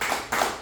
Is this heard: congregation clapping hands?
yes